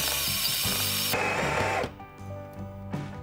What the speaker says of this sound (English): what we're now going to do is we're going to grind our coffee into the basket.